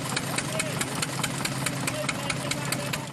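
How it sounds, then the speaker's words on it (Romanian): Old engine, over six decades old, powering an equally aged threshing machine, running with a steady rhythmic knocking chug and vibration while a voice talks over it. "Mașinăria veche de peste 6 decenii funcționează cu un motor la fel de vechi"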